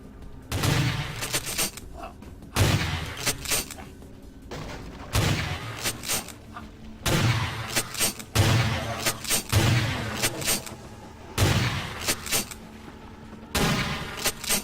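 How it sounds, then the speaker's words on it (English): Shotgun blasts in a video game, a string of loud, heavy reports at irregular intervals of about one to two seconds, each with a rattling tail, close and dominant. "I hear a shotgun being fired at me."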